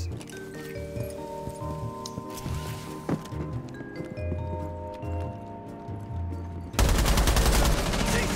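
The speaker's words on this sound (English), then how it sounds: "You shot me, Aiden!" Gunfire in the Rainbow Six Siege video game, heard as a dense burst of rapid shots over game music and effects, ending in a loud sustained blast of noise.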